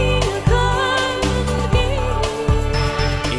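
A short, loud excerpt of a medieval-styled song, with accordion, fiddle and hurdy-gurdy over a steady beat and percussive hits.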